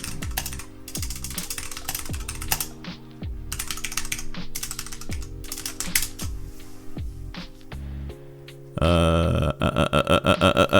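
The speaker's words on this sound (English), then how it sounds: "Here's some keyboard ASMR for you guys." Rapid clacky keyboard typing, close and crisp, in bursts with a louder clattering flurry at the end.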